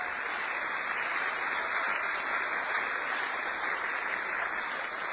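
Faint, steady audience applause at a lecture event, a dense, even patter of many hands clapping that holds without a break for the whole stretch and sounds somewhat distant.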